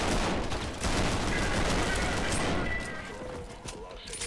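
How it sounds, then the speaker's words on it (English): Sustained gunfire in the first-person shooter Trepang2, loud dense automatic shots packed together from the start before thinning out, with game sounds mixed in. "Oh, that's some satisfying shooting."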